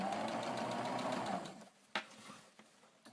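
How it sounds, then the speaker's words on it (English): Sewing machine running a straight stitch along a pinned seam while converting a dress into a skirt: a steady loud motor hum for about a second and a half, then it stops, leaving a few sharp clicks and handling sounds. "So I'm just going to get it under the foot, and I'm just going to do a straight"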